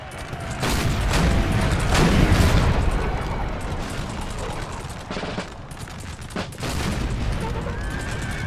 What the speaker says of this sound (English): This artillery up the hill are devastating